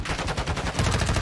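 Rapid automatic gunfire in the battle royale game Warzone 2.0, coming from a boat: a loud, close burst of evenly spaced shots that continues without a break for just over a second.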